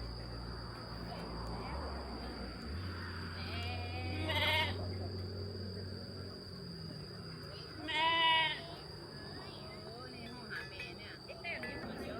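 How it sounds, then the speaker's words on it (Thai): Sheep bleat at a farm in Nan, with two loud wavering calls close by and fainter bleats between, over a steady high insect hum and a low background drone. "ให้ดูบรรยากาศน้องแกะนะคะ"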